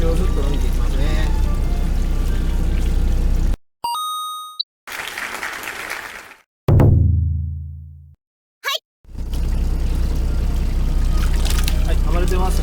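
Freshly caught filefish thrash and splash in water while being bled out, heard in loud bursts of churning water broken by silent gaps and a short electronic sweep.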